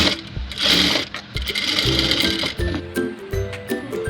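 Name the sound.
sewing machine stitching frock body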